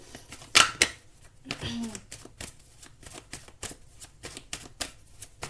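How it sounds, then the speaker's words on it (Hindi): Tarot cards are shuffled and drawn close up, with crisp riffling bursts and a steady run of sharp card snaps and flicks, while a voice speaks faintly underneath. "मैं अभी आपके लिए कुछ कार्ड्स निकालूंगी"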